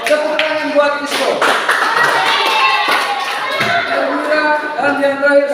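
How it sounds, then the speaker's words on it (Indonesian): Classroom clapping for a student at a school lesson, steady and fairly loud throughout, with voices and cheering mixed in over the hands. "tepuk tangan buat Isco"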